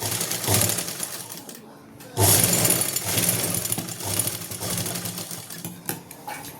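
A sewing machine stitches the back part of a salwar in a rapid, continuous mechanical chatter with a brief pause midway, close up, as a voice speaks over it.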